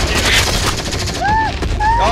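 Heavy sustained gunfire in the Squad video game with the Troopers mod, a loud continuous fusillade filling the whole moment, with shouted voices and whistling tones riding over the shooting.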